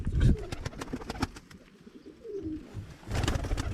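Adult and young pigeons coo inside a coop in Ankara, producing repeated low, burbling calls with soft wingy rustles, close and fairly loud, without talk over them.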